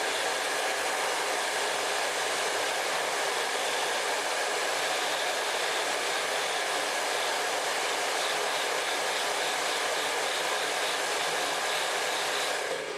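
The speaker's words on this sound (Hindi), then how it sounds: "तो जब भी आप ड्रायर करते हैं दोस्तों, तो ड्रायर का मतलब ये है बालों के अंदर अच्छे से हीट आनी चाहिए।" A blow dryer runs continuously at close range while curly hair is dried around a small 19 mm round brush, a steady loud whoosh with no talking.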